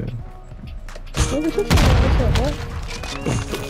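Gunfire and explosions from the Modern Warfare 2 video game, loud booming shots and crackling bursts that swell midway and continue, with voices talking over the battle.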